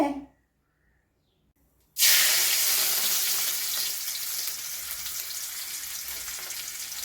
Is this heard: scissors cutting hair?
no